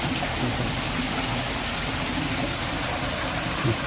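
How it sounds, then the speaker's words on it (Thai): Waterfall at a shrine site in Kalasin, Thailand, a steady broadband rush of falling water that is continuous and fairly close, with no talking. "มีน้ำตก"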